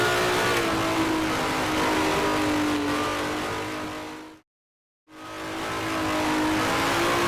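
A Honda RA300 Grand Prix car at Riverside in the Grand Prix Legends racing game gives a loud, continuous engine howl that falls to total silence for about a second, then returns at full volume.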